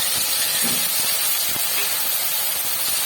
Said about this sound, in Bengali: সেই তেলের মধ্যে আমি পেস্টটা দিয়ে দিলাম